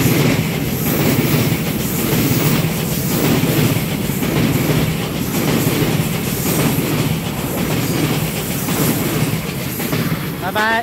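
Silver-green Smile EMU900 electric multiple unit, a ten-car set running as a local express on the North-link line, rolls steadily and loudly with continuous wheel rumble and rhythmic clickety-clack, a brief wheel squeal near the end.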